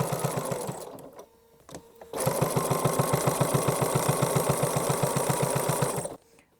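A sewing machine stitches fabric and batting for a child's rug in a fast, even rhythmic chatter, pausing briefly before running steadily for several seconds and then stopping.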